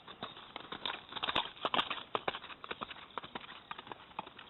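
Horse hooves clip-clop in a quick galloping rhythm on the ground, close by and steady through the whole stretch, with no voices over them.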